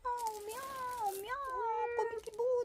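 A stray cat giving birth lets out drawn-out, wavering meows and strained caterwauling cries, close and fairly quiet, with a few short breaks between calls.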